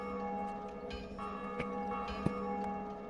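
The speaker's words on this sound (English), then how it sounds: "The bell tolleth." A bell tolls in the Dark Souls video game, a faint, sustained metallic ring with steady overtones lingering over quiet background, punctuated by a couple of brief soft clicks.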